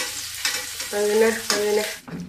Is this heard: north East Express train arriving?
no